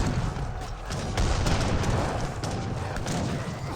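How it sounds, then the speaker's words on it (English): Heavy artillery volley from Great Bombards in an Age of Empires 3 battle, a dense continuous roar of booming cannon fire and impacts sustained for several seconds with no pauses. "Let's get a good volley there onto these units"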